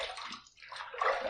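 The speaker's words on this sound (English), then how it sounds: "Let's rinse." Water sloshing and splashing as a Van Der Hagen Futur Style adjustable razor is rinsed after a shaving pass, two bursts of running, swishing water close by with a brief lull between.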